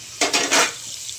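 Hot oil spattering as garlic is tempered, three or four sharp crackling bursts in quick succession close by, then a quieter hiss.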